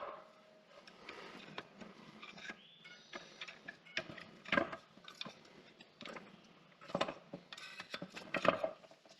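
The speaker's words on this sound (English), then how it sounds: "We're just gonna pop all these out real quick." Metal brake pads being popped out of a C6 Corvette Grand Sport front brake caliper, with scattered clicks, clinks and metallic knocks close by, louder bursts near the middle and end, and no talking.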